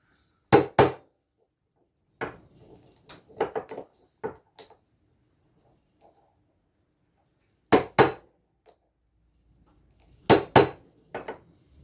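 A hammer strikes a metal casing to punch small indentations into its side, with sharp ringing double blows in separate bursts, a cluster of lighter taps, then further paired strikes, close and loud against quiet gaps.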